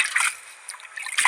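A little water trickles and splashes onto the soil of a freshly potted champa plant outdoors, in brief soft dribbles with quiet gaps between them.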